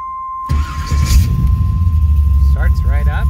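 An LS1 car engine with a new mass air flow sensor cranks and catches after a brief silence, then settles into a low, steady idle rumble up close, with a voice talking briefly near the end.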